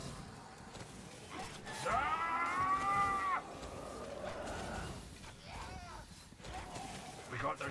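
A cow moos in the strategy game Spellforce 3, a single drawn-out call over game sounds. Other faint calls and voices can be heard around it.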